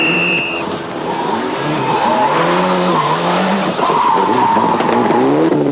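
Rally car from the 1996 European Rally Championship, an Escort driven at speed over a bumpy stage with brake trouble: a loud, close engine holds steady with rising and falling revs, gravel crunch and thumps from the rough road throughout.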